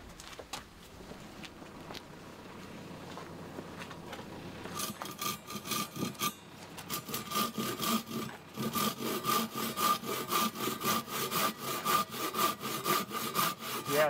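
A Japanese ryoba pull saw with a glossy, freshly resharpened blade crosscuts wood, starting with soft rubbing strokes and then settling into a loud, steady rhythm of rasping pull strokes.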